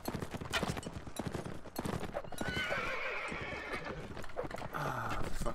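A horse in the medieval combat game Mount & Blade Warband neighs with a rising whinny over rapid galloping hoofbeats, with the clatter of battle around it.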